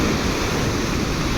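Sea waves at RK Beach in Visakhapatnam make a loud, continuous rushing roar of surf close by, mixed with wind buffeting, with no voices.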